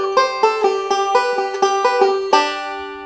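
Banjo playing a Groundspeed lick built on backwards rolls, bright plucked notes ringing in a quick, steady syncopated pattern, close and clear with no voices.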